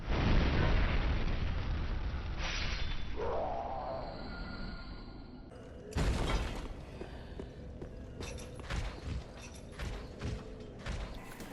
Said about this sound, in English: Long before the explosion ever comes out, you'll see the damage for it register. There it goes. And then there's the explosion.